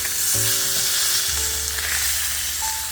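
Chicken sears in a pan with a loud, continuous close sizzle, a few hums and faint clinks running underneath, no speech.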